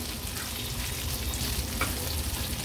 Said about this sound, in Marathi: हे बघा, दोन्ही साइडनी मच्छी व्यवस्थित आपली तळून झाली आहे।